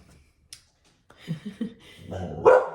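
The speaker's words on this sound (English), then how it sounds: "My dog is trying to protect me from the outside" A dog barks indoors at noises outside, a short series of sharp, close barks and yips that grows louder toward the end after a quiet start.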